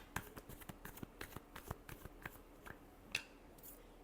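Tarot cards are shuffled in a quiet room, giving a faint, steady run of crisp, irregular clicks and flicks with a couple of sharper snaps.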